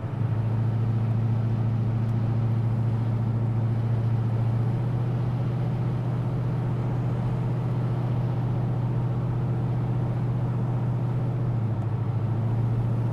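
A Chevelle with a Blueprint 383 engine drives along, its low, steady engine drone loud and constant throughout, with a slight shift in tone as the throttle changes partway.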